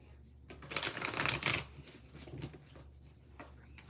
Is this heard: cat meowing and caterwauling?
no